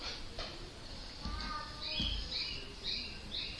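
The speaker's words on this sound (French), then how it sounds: "Vous entendez mes oiseaux" Pet birds squawk and chirp faintly in a quiet indoor room, a few short calls and trills scattered over low background noise.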